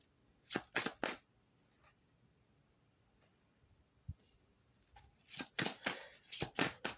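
Oracle cards are shuffled and drawn in two quiet clusters of soft, papery flicks close by, a short tap between them and near silence otherwise.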